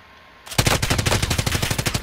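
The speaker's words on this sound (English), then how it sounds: "Yep, that's a machine gun." Machine gun fire in Call of Duty: Modern Warfare Warzone, a sudden loud, close burst of rapid, evenly spaced shots that starts after a brief quiet moment and keeps going, with no talk.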